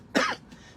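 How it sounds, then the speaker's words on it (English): A single sharp cough from a woman at a card-stamping craft table, close and fairly loud, followed by a faint throat sound. "I still have a little bit of a cough"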